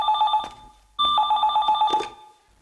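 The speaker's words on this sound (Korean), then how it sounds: "전화 받습니다." A telephone rings twice in close succession, loud and near, with bright bell tones that break off between rings.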